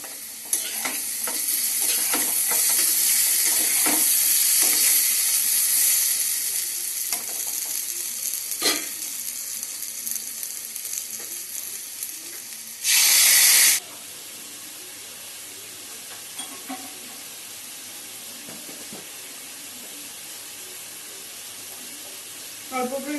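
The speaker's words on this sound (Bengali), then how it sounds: "এবার এটাকে গুলিয়ে ওর মধ্যে ঢেলে দেব, ঢেলে দিয়ে তারপরে আবার ওটা ভাজা ভাজা হবে।" Chili paste fries in hot oil in a pan, a loud steady sizzle with scraping stirring strokes that fades to a quieter simmer, broken by a brief sharp burst partway through, with no talk.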